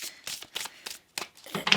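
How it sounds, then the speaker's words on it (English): Tarot cards are shuffled by hand in a run of quick, crisp, papery bursts with brief gaps between them, close and moderately loud, with no talking. "I want to shuffle a bit more"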